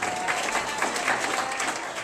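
Steady applause from an audience at a DJ event, clapping for the DJ, dense and continuous with crowd noise throughout, fairly close and even in loudness.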